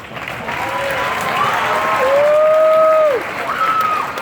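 Crowd clapping continuously at a high school prep rally, with a few sliding whistle-like tones rising and falling over the applause.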